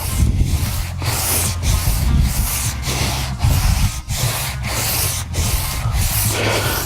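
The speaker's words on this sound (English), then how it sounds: "so you can do the sanding" Steady back-and-forth sanding on a wooden guitar fretboard with a radius sanding tool, rhythmic rasping strokes about every half second, close and continuous with no talking.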